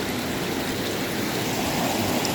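Second, smaller waterfall on a walking trail, heard as a steady, close broadband rush of falling water that runs without a break and drowns out other sound.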